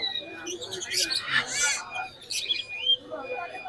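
Caged birds at the Mirpur 1 bird market in Dhaka chirp and tweet in quick, bright bursts close by, with faint talk in the background.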